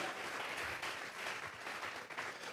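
Church congregation applauding during a Spanish-language sermon, a steady wash of many hands clapping at moderate distance, continuous for the whole stretch with no voices standing out.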